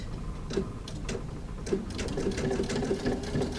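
Sewing machine runs steadily, stitching around the edge of fabric, a close continuous rapid whirring hum with light rhythmic ticking from the needle, no talk over it.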